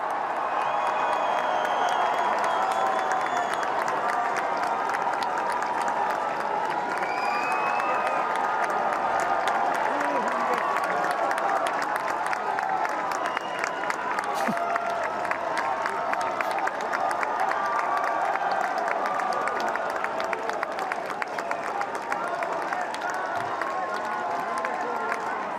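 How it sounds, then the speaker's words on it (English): At Wimbledon, a large crowd cheers and applauds continuously for the whole stretch, dense clapping and shouting filling the air at a steady, loud level. "let's hear the cheers."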